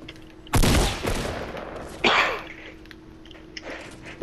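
Gunfire in a first-person shooter video game: two sharp, loud bursts of shots about a second and a half apart, followed by a fainter pop, over a quiet background hum.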